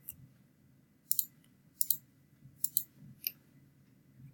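Computer mouse clicks selecting an area in a vertex paint program, about six sharp, quiet clicks in uneven pairs and singles over a low background hum.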